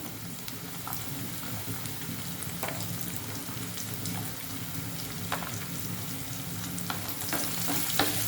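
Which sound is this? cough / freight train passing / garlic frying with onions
garlic frying with onions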